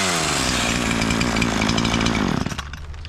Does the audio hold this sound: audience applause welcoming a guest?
no